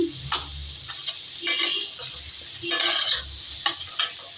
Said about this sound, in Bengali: এখন আমি আস্তে আস্তে একটু ভেজে নিব